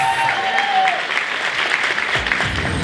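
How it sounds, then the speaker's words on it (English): Audience applause at a community honoree awards event, a steady, dense wash of clapping from a sizable crowd, with a faint voice briefly audible near the start. "Another round of applause for Lieutenant Sabrina Briggs."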